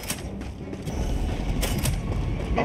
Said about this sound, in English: Oh, you can hear the door activate, like, when it's ready to be clicked, huh?